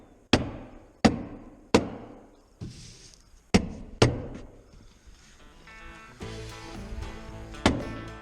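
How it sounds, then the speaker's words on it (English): About seven sharp, loud whacks of a hammer tacker stapling house wrap land at uneven intervals, each ringing briefly, with faint music in the background. "We're just using the hammer tacker to go along and staple it down."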